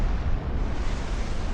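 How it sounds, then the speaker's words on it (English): Rockets explode in rapid succession during a ship battle in the video game HighFleet, merging into a dense, continuous, booming rumble that is loud and heavy at the low end, with no talk over it. "Damn, look at these fireworks that the rockets are making."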